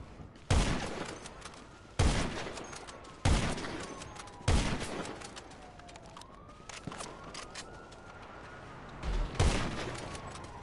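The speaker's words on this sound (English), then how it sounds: "I'm having 2 people shooting at me." Rapid bursts of player gunfire in GTA Online crack out in a rough rhythm, with several sharp volleys in a row and a police siren wailing underneath.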